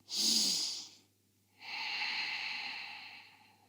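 Deep yoga breathing during a seated twist: one slow breath through the nose, a pause, then a longer drawn-out airy breath, close and clear, with no talk.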